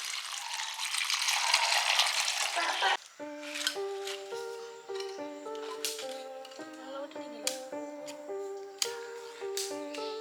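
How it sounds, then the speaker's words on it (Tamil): Water is poured in full over chana dal left to soak, a bright rushing gush for about three seconds before it cuts off, followed by background music. "ஃபுல்லாக தண்ணி விட போகிறோம்."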